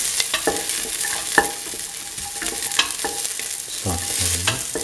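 Shallots fry in oil in a pan for a coconut milk egg stew, sizzling steadily while a utensil scrapes and stirs them in repeated close clinks and scrapes.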